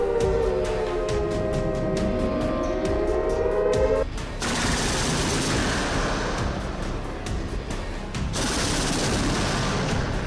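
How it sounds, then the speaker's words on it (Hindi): Chinese army artillery firing on a coastal exercise, heavy rolling booms and crackling blasts that blend into a dense continuous roar, loud and sustained after an earlier rising whine. "जो आर्टिलरी फायरिंग हो रही है"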